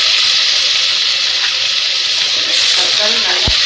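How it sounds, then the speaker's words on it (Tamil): Tomatoes tipped into a hot pan for brinjal thokku, a steady loud sizzle and hiss filling the whole stretch, with a brief clatter and a sharper knock near the end. "ஸோ இப்போ தக்காளி ஆட் பண்ணிடலாம்."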